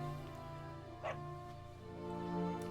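Dog barking from the video game Dragon Quest 11, a short yelping bark over steady game music.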